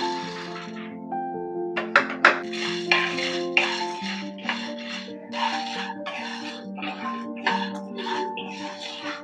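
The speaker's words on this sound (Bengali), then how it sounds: "আমি বাদামটাকে দিয়ে দিচ্ছি। অল্প এটা নেড়ে নিয়ে তারপরে দেব ছোলার ডালটা" Peanuts and chana dal stirred in a frying pan: repeated scraping and rattling of a spatula against the pan, irregular clicks and sizzling, close and moderately quiet.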